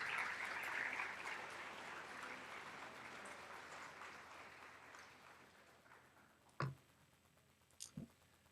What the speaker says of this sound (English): One more round of applause for Alexa.